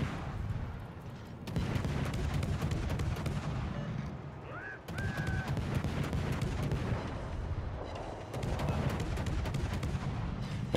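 Naval guns fire in World of Warships ranked play aboard the cruiser Colbert, rolling booms recurring in bursts over a continuous rumble of engine and sea noise, loud and dense.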